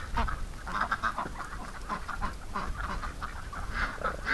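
Ducks in winter snow during mating season give repeated quacks and calls that overlap and rise and fall over a rough background, moderately close and continuous.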